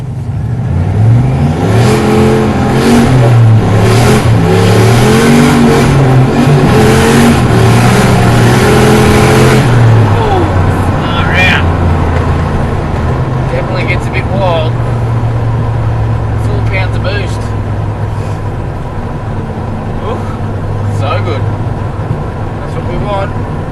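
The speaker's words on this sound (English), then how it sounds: "Let's go through the gears, no one behind us." A turbocharged LS1-powered car accelerates hard through the gears, its engine climbing in pitch with each gear and dropping at the shifts before settling into a steady drone. The engine is loud and close, with someone talking over it.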